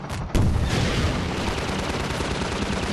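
Gunfire and blasts in Half-Life 2 fill the space with a sudden loud burst, then a sustained rumbling barrage of shots trailing on without pause.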